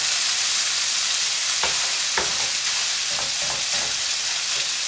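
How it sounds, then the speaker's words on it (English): Paella Valenciana frying in a pan while being stirred, a loud, dense sizzle filling the whole clip with a few soft scraping strokes from the utensil, close up and with no speech. "Give it a stir every now and again so it doesn't stick on the bottom of the pan."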